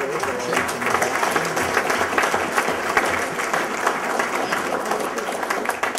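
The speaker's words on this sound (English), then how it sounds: "I want to give the organizers a round of applause for putting together a great show." An audience at a 2014 St. Louis conference on the Shroud gives a full, continuous round of applause, many hands clapping together at an even, strong level from start to finish.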